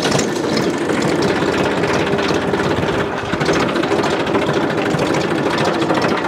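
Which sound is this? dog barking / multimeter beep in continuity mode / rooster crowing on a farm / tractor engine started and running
tractor engine started and running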